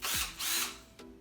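A voice imitates a power drill with two whirring buzzes, then a short final burst, close and fairly loud.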